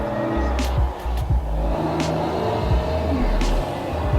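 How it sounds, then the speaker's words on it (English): Road noise inside a moving car: a steady low rumble and tire hum with a few brief swooshes and bumps over a short stretch of driving. "road noise"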